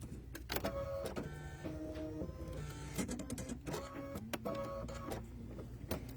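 Embroidery machine stitching a satin-stitch border around an applique piece in a lighter thread, a steady fast mechanical whirring with rapid stepping tones that shift pitch as the needle moves, continuous and close with no talk.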